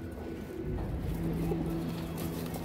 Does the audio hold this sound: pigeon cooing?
yes